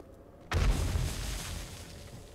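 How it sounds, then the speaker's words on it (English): A loud explosion in the 7 Days to Die video game, set off by a bear, hits with a sudden heavy boom and then rumbles and crackles away for about two seconds. "That bear is triggering explosions and not dying."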